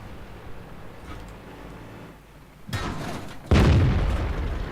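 Tank cannon fire in World of Tanks, with a Tier 5 T-34 as the target: two heavy booming shots land in quick succession, the second louder and closer, each with a broad rumbling tail over a steady low background.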